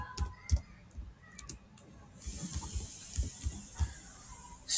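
Keystrokes on a computer keyboard come as sparse, irregular clicks, fairly close and moderately quiet, over a faint hiss that grows slightly louder partway through.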